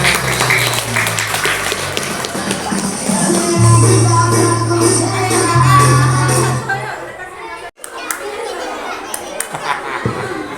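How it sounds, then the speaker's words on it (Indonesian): Applause at a Maulid Nabi celebration at a Quran school, a steady wash of clapping mixed with children's chatter and voices, fading after a sharp break near the end. "Oke, tepuk tangan"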